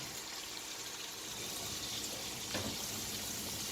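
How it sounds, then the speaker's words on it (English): Chopped cabbage is rinsed in a strainer under running water, making a faint continuous trickle and splash that stays steady throughout. "When you chop it, put it in your strainer and rinse it out."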